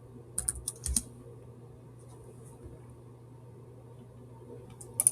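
Quiet keystrokes tap on a computer keyboard in a short cluster of quick clicks near the start. After a hushed pause with faint room hum, a few more keypresses follow at the end.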